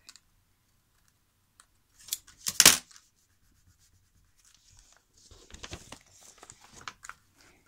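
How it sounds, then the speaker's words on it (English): Scissors snipping through old book paper, a few isolated cuts and then a loud crisp burst of snipping and rustling, followed by a run of softer crinkling cuts, close up with no talking. "I'm gonna cut those pieces out."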